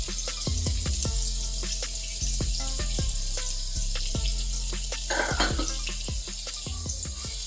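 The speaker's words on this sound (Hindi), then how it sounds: "अब इसमें मैं ऑनियन डालूंगी।" Onions frying in melted butter in a pan give off a steady sizzle, broken by scattered clinks and knocks of a utensil against the pan.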